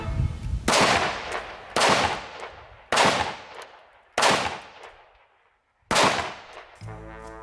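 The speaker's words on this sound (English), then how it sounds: "this one actually does fire blanks, and it's very loud" A Walther PPK pistol fires blanks five times at roughly one-second gaps, each shot a very loud close crack with a fading ring, followed by a brief tonal sound at the end and no talk.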